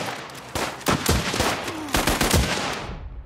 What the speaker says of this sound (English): Is that a machine gun?